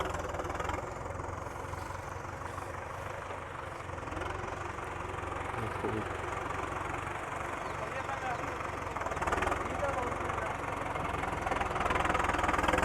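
A tractor engine idles and chugs steadily throughout at moderate volume during wheat sowing on raised beds, with people talking over the continuous mechanical drone.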